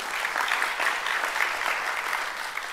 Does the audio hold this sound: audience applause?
yes